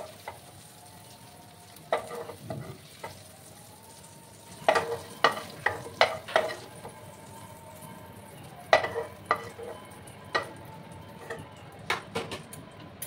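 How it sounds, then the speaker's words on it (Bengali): Small prawns fry in a pan with a quiet sizzle, broken by sharp clicks and scrapes of a spatula at irregular intervals. Nobody speaks. "আর একটু সময় ভাজবো, তারপর আমি এগুলো তুলে নেব।"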